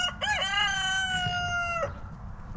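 A farm rooster crows once, close and loud, a rising then long sustained cock-a-doodle-doo call lasting nearly two seconds over faint background noise.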